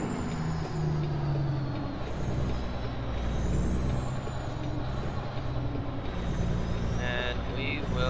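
A truck drives along with a steady, loud engine rumble and road noise throughout, joined by a rising whine and some high mechanical squeals near the end.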